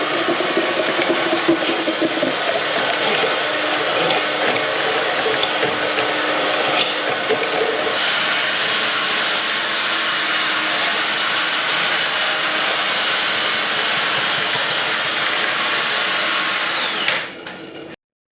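Cutting tool machining down through the length of a urinal drain pipe out to a 4-inch line, a steady loud whining grind with a high tone held throughout, stopping abruptly near the end.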